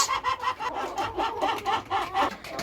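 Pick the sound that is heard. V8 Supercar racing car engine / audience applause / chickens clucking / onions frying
chickens clucking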